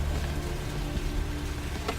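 Steady rain falls in the video game Vampire the Masquerade: Bloodlines, a continuous loud wash of drops on hard surfaces with a low rumble underneath and no voices.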